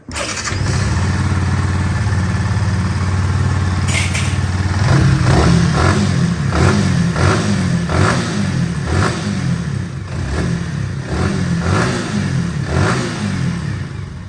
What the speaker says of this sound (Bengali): বাইকটা যেহেতু অবশেষে কমপ্লিট করলাম তো স্টার্ট করে দেখাই